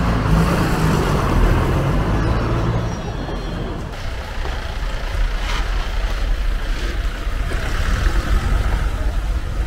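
A Volvo bus of Himachal's HRTC Himsuta service on the Delhi–Dharampur route grinds along a narrow mountain road, its loud engine rumble steady and close, with a brief hiss partway through and no talk.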